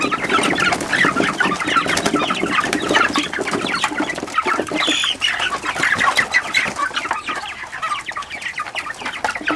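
Meat chickens at four weeks old cluck and chatter steadily at breakfast feeding time, a close, busy flock sound that runs throughout with no talk.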